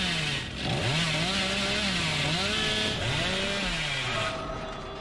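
Revving chainsaw wielded by the killer in the video game Dead by Daylight, a loud, continuous engine drone whose pitch swells and dips several times before dropping off near the end.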